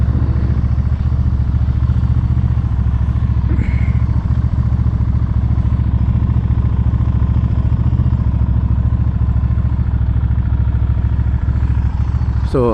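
A Benda motorcycle rides along a road at low speed, its engine running steadily with a constant rumble and wind noise throughout, close and fairly loud, with a brief higher whine near the end.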